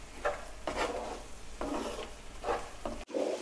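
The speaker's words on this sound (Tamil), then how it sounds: "இதை சேர்த்துட்டு ஒரு 2 நிமிஷம் கலர் விடலாம்." Beetroot halwa with ghee is stirred in a pan with a sizzle underneath, about four or five rhythmic, scraping strokes, close and clear, with no voices.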